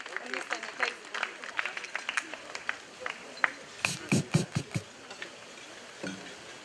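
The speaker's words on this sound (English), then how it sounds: "Give him a big clap as he comes on stage." At a conference gala dinner, scattered hand claps ring out under a speaker's voice, then a short, close run of sharper clapping rises briefly before fading back beneath talk.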